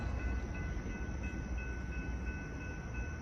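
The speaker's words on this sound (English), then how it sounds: "The next inbound train approaching your station will not stop." An inbound train runs through a Downers Grove station without stopping, giving a steady, loud rumble with faint high tonal whines that lasts the whole time and has no voices over it.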